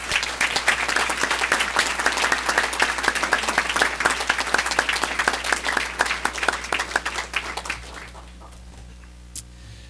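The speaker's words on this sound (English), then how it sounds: "please join me in giving them a well-deserved round of applause" Audience applause at a board of education meeting, steady dense clapping that holds for most of the stretch, then thins and tapers off near the end.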